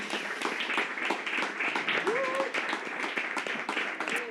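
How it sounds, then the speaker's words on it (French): Audience applause for a simultaneous interpreter at the close of a full day of debate on the art of programming, steady dense clapping mixed with murmuring voices throughout, fairly near and moderate in level. "je vous propose d'applaudir Cécile, qui fait de la traduction simultanée toute la journée"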